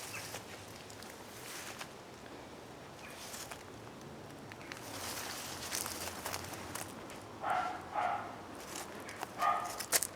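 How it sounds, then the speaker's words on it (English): A couple of small dogs bark next door beyond a garden, a few short yaps clustered toward the end over a steady outdoor background hiss, moderately distant and not very loud. "Wee dogs barking next door."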